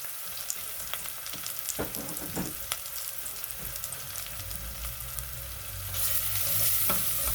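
Crushed black pepper sautéing in a pan for a frittata with bruscandoli, a steady soft sizzle with occasional stirring scrapes, growing louder and hissier near the end.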